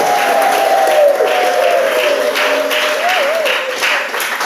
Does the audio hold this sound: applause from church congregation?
yes